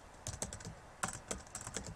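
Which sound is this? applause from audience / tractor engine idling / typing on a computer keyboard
typing on a computer keyboard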